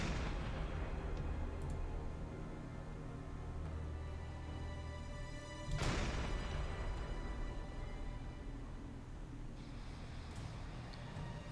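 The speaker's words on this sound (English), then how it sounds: "And I think we've already got some fire and explosions going on that ship." Explosions and fire on a ship in the Silent Hunter 5 submarine game: a continuous loud roar of rumbling blasts with one sharp boom in the middle, heard with no talking.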